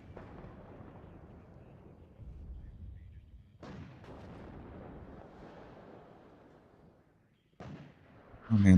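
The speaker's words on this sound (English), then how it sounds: "Oh man, look at that artillery once again," Artillery fire in a multiplayer video game match sounds as deep, rumbling booms, with a couple of sharper blasts standing out over a continuous low battlefield roar and a heavy thump at the very end.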